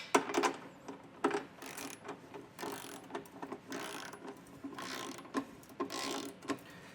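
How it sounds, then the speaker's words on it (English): A torque wrench ratchets as it tightens the bolts of a Curt Class III trailer hitch on a 2024 Jeep, giving close, irregular bursts of metallic clicking and short pauses between strokes. "So we'll go through and torque these down."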